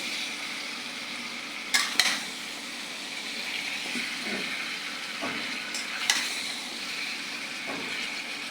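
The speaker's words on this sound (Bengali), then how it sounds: "মিষ্টি কুমড়াটা আমি ভালো করে কষিয়ে নেব।" Chunks of sweet pumpkin stir-fried in a pan while it is being cooked with rohu fish, with a steady background sizzle and a few sharp scraping clinks of the spatula against the pan.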